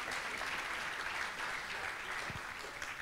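Audience applause at a religious lecture, steady and evenly sustained clapping from a gathered crowd, fairly faint and distant.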